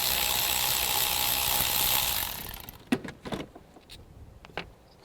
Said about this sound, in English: So I'm just gonna pull the coil out.